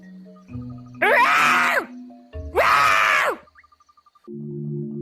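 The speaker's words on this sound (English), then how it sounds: "Oh, it's just the parrot" Two long, harsh, raspy parrot screeches in a row, loud and close, with low tonal background sounds between them.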